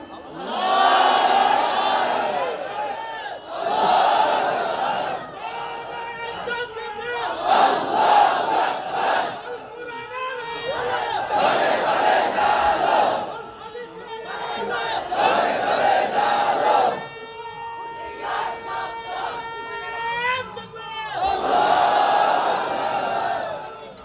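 A large crowd at a Bengali Islamic religious gathering shouts takbir in loud, sustained unison, several surging chants in a row, each swelling and fading, with a leader's amplified voice leading between them.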